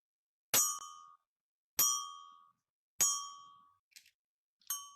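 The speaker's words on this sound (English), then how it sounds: "the bells can have this very clear and crystal sound" Ancient bronze chime bells of Marquis Su of Jin are struck gently on the large bell body, three clear ringing strikes that decay over about half a second each, followed by two fainter, shorter taps.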